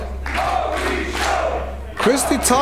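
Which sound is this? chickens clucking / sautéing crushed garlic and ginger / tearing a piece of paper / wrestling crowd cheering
wrestling crowd cheering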